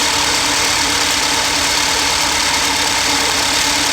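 A Nissan Juke engine runs steadily during an ignition coil diagnosis, a loud, even mechanical drone with a fine ticking texture and no break over four seconds.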